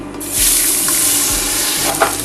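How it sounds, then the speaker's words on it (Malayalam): Rice sizzles and fries in a hot pan while a spoon stirs it, a steady close crackle broken by soft scraping strokes, with no voices. "ഇത് ഒരു 5 മിനിറ്റോളം നമുക്കൊന്ന് ഫ്രൈ ചെയ്ത് നന്നായിട്ട് ഇളക്കി കൊടുക്കണം."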